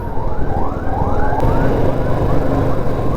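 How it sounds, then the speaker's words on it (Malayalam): An ambulance siren wails in repeated rising sweeps as it approaches at a road junction near Thiruvalla, loud over a steady traffic and engine rumble. "ആംബുലൻസ് വരും, സൈഡ് കൊടുക്കാം."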